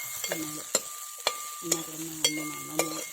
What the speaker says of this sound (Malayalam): ഉരുളക്കിഴങ്ങ് കട്ട് ചെയ്ത് നന്നായിട്ടൊന്ന് വഴറ്റി